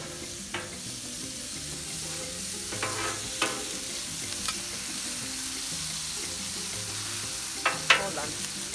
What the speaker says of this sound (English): Now let's throw in our peppers.